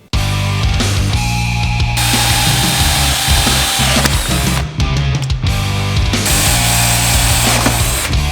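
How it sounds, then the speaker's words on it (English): A drill bores a 13/64-inch hole into a 1-inch steel pipe coupling, a loud grinding whine that shifts pitch as it bites, pausing briefly midway before resuming. "take our 1-inch coupling and drill a hole in it, a 13/64 hole"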